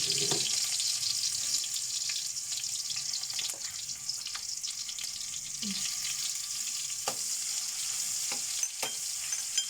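Garlic for a squid dish sizzles steadily in a hot pan, a continuous bright frying hiss with occasional faint clinks of stirring, no voices.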